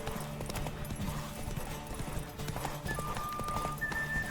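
Hooves of Roach, the horse in The Witcher 3: Wild Hunt, galloping in a steady fast clip-clop rhythm under a game music bed, fairly quiet, with brief high tones near the end.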